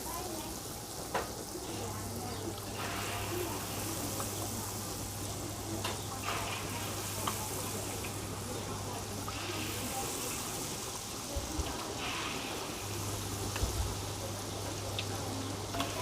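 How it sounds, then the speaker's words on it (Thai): Chicken drumsticks deep-fry in hot oil for Thai-style fried chicken, a steady, dense sizzle and crackle that holds evenly throughout with faint voices behind it. "เราลงทีละน่องนะครับทุกคนทอดไปเรื่อยๆเลยนะครับ"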